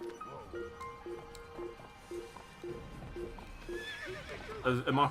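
A horse whinnies in Assassin's Creed, shrill neighs over rhythmic hoof clip-clops and faint background music, ending in a louder burst.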